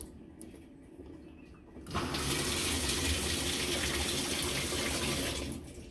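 Cold water rushing into a Whirlpool commercial washer in test mode, a quiet mechanical hum first, then a sudden loud steady hiss of filling water that holds before easing off at the end.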